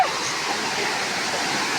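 Water pours over a brimming village check dam in a loud, continuous, even rush of white noise.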